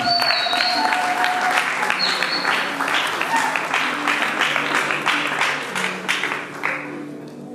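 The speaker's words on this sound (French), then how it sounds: "sous nos applaudissements." Dense, steady applause from an audience at an NGO's official launch ceremony as a member is introduced, loud throughout and easing slightly toward the end, with a voice faintly audible through the clapping.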